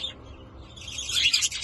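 Finches in an aviary breeding area give quick, high chirps and tweets. The calls start faint and grow busier near the end, with no voices over them.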